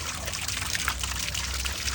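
Water trickling and splashing from a garden pipe outdoors, a continuous close rushing stream that holds steady for a brief moment.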